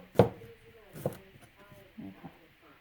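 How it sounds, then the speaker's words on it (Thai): A few sharp knife chops through garlic on a cutting board, spaced irregularly, close and fairly loud, with brief quiet gaps between them. "หั่นกระเทียมก่อนนะคะทุกคน"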